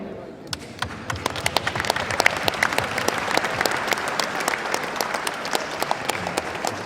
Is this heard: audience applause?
yes